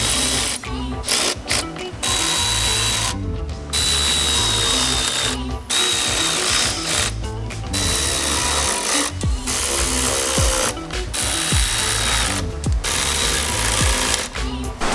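Ratchet tightening on COBB front-mount intercooler hardware on a 2017 WRX STI, a steady run of close mechanical clicking and cranking that continues almost without pause, with a few short breaks, under a busy background.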